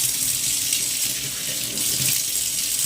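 Water runs steadily into a bathroom washbasin during cleaning, a continuous close hiss and splash of tap flow with a faint low clatter underneath and no speech.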